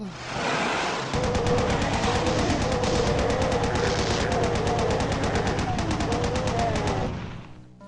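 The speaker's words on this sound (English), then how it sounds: "go in there with chain gun" Rapid, sustained chain gun fire from a video game, a dense continuous rattle of shots running nearly eight seconds at steady loud volume before cutting off.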